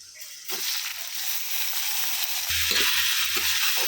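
Rice coated in spices goes into hot oil along with cashews and raisins, and the pan gives a steady close-up sizzle that swells louder as the rice lands, with stirring scrapes and low thuds. No one speaks.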